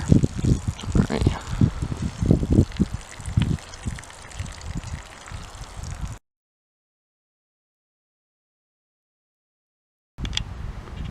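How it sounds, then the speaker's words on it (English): Water gushing and trickling out of a target shot through with a Gamo air rifle pellet, a steady splashing flow over about six seconds before the sound cuts to silence, then a brief return at the end. "Obviously the water's pouring out"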